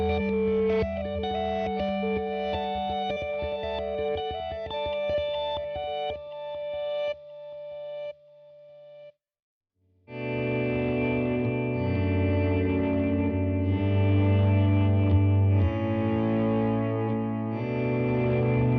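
Electric guitar run through a Line 6 HX One multi-effects pedal, first picked notes with a shimmering modulated tone, then a brief silence before thick, distorted chords and sustained notes return loud and close.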